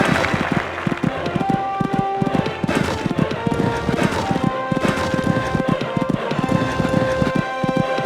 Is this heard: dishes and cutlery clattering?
no